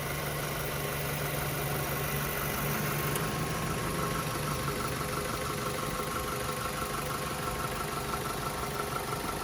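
A 2007 Mazda 3 S Grand Touring's 2.3-liter four-cylinder engine idles steadily, heard from the open engine compartment as a smooth, even hum with no talking.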